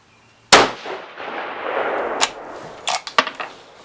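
A 6 GT rifle fires a single sharp, loud shot on a 200-yard range, followed by a long decaying echo and a few fainter metallic clinks afterward.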